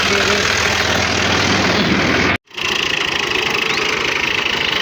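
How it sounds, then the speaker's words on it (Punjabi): Tractor engine running steadily and loudly close by, with a brief sharp cutout midway before the engine sound resumes at the same level. "ਹੁਣ ਟਰੈਕਟਰ ਲੈ ਕੇ ਚੱਲਣੇ ਆ"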